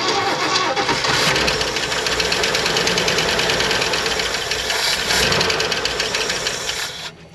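An old V8 in a Ford Econoline idles loud and close with a constant rumble and a ticking knock, settling slightly toward the end.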